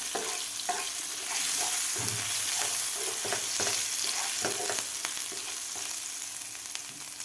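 Chopped green chilli and ginger sizzling loudly in oil in a pan, stirred with repeated scraping knocks of a spoon over the steady hiss.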